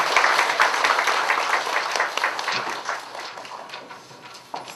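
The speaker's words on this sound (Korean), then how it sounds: "감사의 박수 부탁드립니다." Guests at a seventieth birthday party give lively, sustained applause, with dense clapping close by that gradually thins out.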